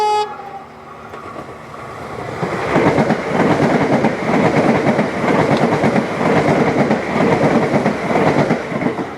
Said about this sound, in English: as you can see there's a train coming